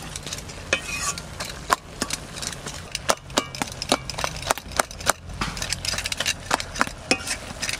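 Food being stirred in a cooking pot while preparing a vegetarian chana dal and taro dish, with a busy run of rapid scraping and knocking strokes over a low sizzle, close and steady, no voices.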